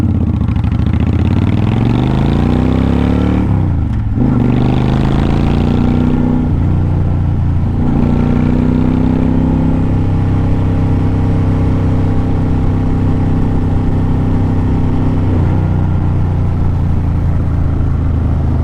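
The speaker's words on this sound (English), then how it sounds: "This bike does sound badass." A Honda Shadow 750 Phantom motorcycle engine runs loud and close with a steady deep rumble, pitch dipping and rising as the throttle changes, with no talk.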